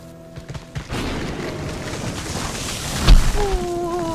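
Steady, dense storm noise of rain and wind fills a Bengali cartoon scene, with faint musical tones running through it and a single deep thump near the end.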